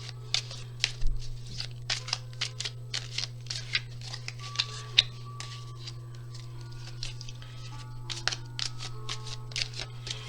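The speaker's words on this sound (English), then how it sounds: "I'm going to go ahead and shuffle." Tarot cards being shuffled in quick, repeated riffles and flicks, close and fairly soft, over a steady low hum.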